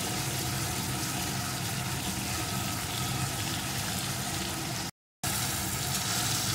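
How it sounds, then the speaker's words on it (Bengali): Spice paste frying in oil in a pan while being stirred for a hing coconut pabda fish curry gives a steady, close sizzle with a watery bubbling texture, broken by one brief silent gap. "আরও কিছুক্ষণ আমি এইভাবে মশলাটা সুন্দরভাবে কষিয়ে নেব।"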